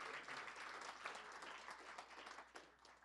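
Audience applause after a talk on pedestrianism, a steady broadband patter of many hands held fairly quiet and continuous throughout, with no voices over it.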